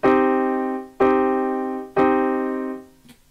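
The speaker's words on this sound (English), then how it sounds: "Now this is the sound of a minor triad." A minor triad chord is struck three times, about a second apart, each ringing and decaying before the next.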